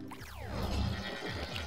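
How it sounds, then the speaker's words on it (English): A hover goat in Plants vs Zombies Garden Warfare 2 lets out a loud, wavering bleat that rises and warbles for over a second, heard alone without talk. "I think we could do 3 hover goats"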